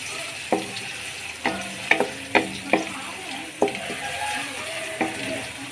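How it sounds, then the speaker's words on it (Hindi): Ginger garlic paste fries with onions in a hot pot, a steady sizzle broken by a series of sharp spoon scrapes and clinks as it is stirred, close and fairly loud. "तो अब हम इसमें अदरक लहसुन का पेस्ट शामिल करेंगे।"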